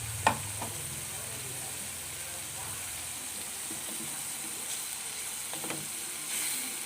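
Tempeh sambal sizzling in a pan, a steady close hiss with a spoon knocking and scraping now and then as it is stirred.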